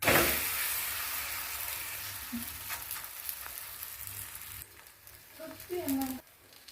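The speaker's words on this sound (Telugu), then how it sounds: "ఇది ప్యాన్ పైన వేసుకున్నాం." Ragi roti cooking in oil on a hot pan gives a steady close sizzle that starts loud and gradually settles, with a few light scrapes and clinks near the end.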